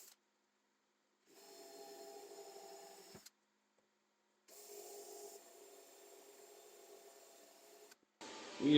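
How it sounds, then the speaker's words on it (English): A 1/8 inch drill bit boring into metal during a Porsche 914 restoration: two sustained bursts of steady whining drilling, near and fairly loud, separated by a pause, with a brief clunk at the end. "I'm gonna drill it with this. It's an 1/8 inch drill bit."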